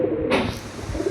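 A big domestic highflyer pigeon coos in low, throaty bursts close by, the soft rolling calls mixed with other nearby pigeon sounds and a brief rustle.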